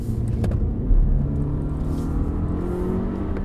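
A car engine drones loudly and steadily nearby at about 4,000 RPM with brakes held hard, a rising tonal hum suggesting revving, and a short low thump near the start.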